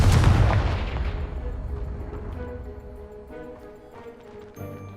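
Confringo fire spell in Hogwarts Legacy: a loud blast that bursts at once, then rumbles and fades over several seconds, ending in a faint magical shimmer.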